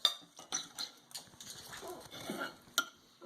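A knife cuts steak on a plate with a series of irregular, close clinks and scrapes of metal on ceramic, some sharp ticks among softer sawing strokes, fairly quiet with no talk.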